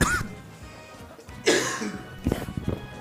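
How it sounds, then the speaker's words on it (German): A commentator coughs several times over a fighting-game tournament stream, harsh bursts of throat noise with some throat clearing, close to the microphone, with game sounds and a little talk around them. "Sorry, immer noch ein bisschen husten."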